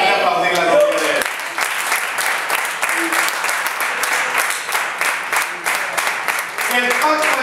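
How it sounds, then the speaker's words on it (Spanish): Worshippers at a Spanish-language church service break into full, sustained applause after a brief tonal, voice-like sound at the start, with some talk or cheering mixed into the steady clapping. "Voy a aplaudir la gloria de Él."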